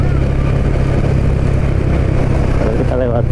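Motorcycles and cars in jammed traffic create a dense, continuous engine rumble with steady low idling and revving throughout, loud and close, and a voice speaks briefly near the end.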